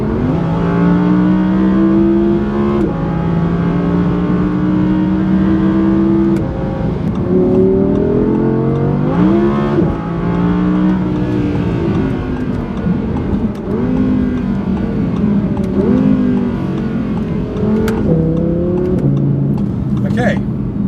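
An Audi R8 RWS V10 roars close and loud, its engine note climbing and dropping through repeated hard accelerations and revs, with a person talking over it.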